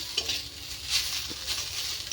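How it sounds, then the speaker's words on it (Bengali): Drumstick (sajna) leaves frying in a pan, a faint soft sizzle with light stirring scrapes recurring every half second or so, quiet and close. "এখানে হচ্ছে সজনা পাতা ভাজা করছি"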